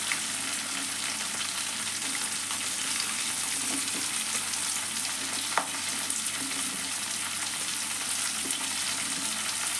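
Sliced onions frying in oil in a pan for prawn curry, a steady close sizzle with faint stirring ticks and one sharp clack midway, continuous throughout with no talking.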